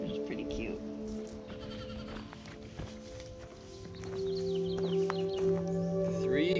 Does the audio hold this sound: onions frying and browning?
no